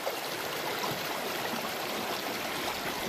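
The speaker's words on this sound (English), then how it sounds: "Some nice turbulent water going on there." Turbulent stream water rushing and churning steadily while gold prospecting on Black Mountain, a continuous close wash of flowing water with no talk.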